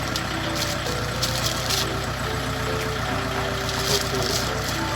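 A tractor engine drones steadily and loudly throughout, a continuous low rumble with no pauses and no voices.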